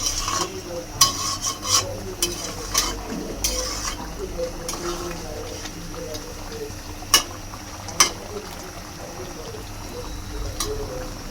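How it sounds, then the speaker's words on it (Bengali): Potatoes stir-fried into a beef curry with chui jhal: steady sizzling with scattered scraping and clinking strokes of a spoon against the pan, several sharper knocks standing out, close and moderately loud. "এখন আলুটা দিয়ে দেই আলুটা দেওয়া কিছুক্ষণ কষাই"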